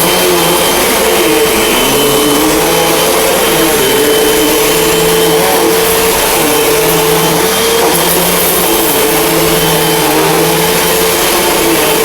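A Hoover Elite Rewind bagless upright vacuum cleaner runs continuously on carpet with a loud, steady motor whine and airy rush, and no voices.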